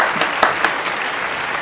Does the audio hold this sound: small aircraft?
no